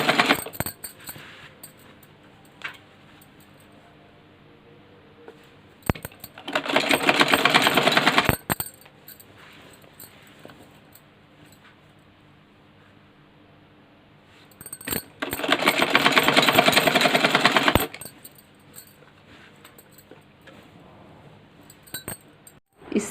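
An electric sewing machine stitches petticoat fabric in two separate runs of rapid, steady whirring, with quiet handling and pauses before, between and after.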